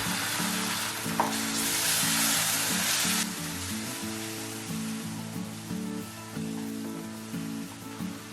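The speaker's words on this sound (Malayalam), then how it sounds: "ഇനി ഇതിലേക്ക് അധികം പുളിയില്ലാത്ത 1/2 കപ്പ് തൈര് അല്ലെങ്കിൽ 1 ടൊമാറ്റോ ചോപ്പ് ചെയ്ത് ചേർത്ത് ഇളക്കുക" Curd being stirred into a Kerala-style pepper chicken masala in a hot pan, with a steady, close oil sizzle and soft stirring scrapes throughout, over faint background tones.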